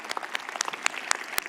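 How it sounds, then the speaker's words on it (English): Brief scattered applause from an audience at a fundraising gathering, a sparse patter of individual claps rather than a full ovation, fairly faint and close. "we can applaud that and say thank you to them"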